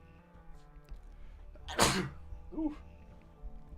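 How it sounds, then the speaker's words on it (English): A single loud sneeze bursts out over quiet background noise, followed by a brief vocal sound. "I gotta sneeze"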